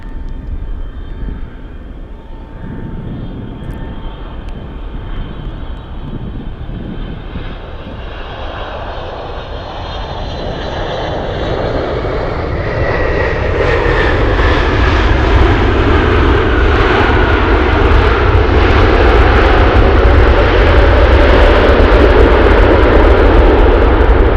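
A FedEx cargo aircraft at Anchorage airport, runway 15 in gusty wind, its engine noise swelling from a distant whine into a loud, close, sustained roar that dominates to the end.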